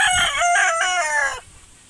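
A rooster in a backyard breeding pen lets out a single loud, close crow of about a second and a half that rises and then trails off, with no other sound behind it.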